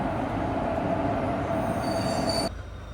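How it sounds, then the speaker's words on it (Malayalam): A passenger train on the Mangalore to Subrahmanya Road line, hauled by a diesel locomotive, rolls through Mangalore Central station with a steady roar and high-pitched wheel squeal. The noise drops off sharply near the end, and no one speaks. "ഇതാണ് ഞാനിന്ന് പോകാൻ പോകുന്ന Mangalapuram Subrahmanyam road passenger train"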